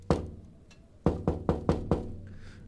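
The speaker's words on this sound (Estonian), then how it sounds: "koputus uksel, mis kajas läbi terve maja, terav ja ootamatu" Knocking on a wooden door in the horror game Terrors to Unveil: one sharp rap, a pause, then four quick loud knocks in a row, close and echoing with no voices.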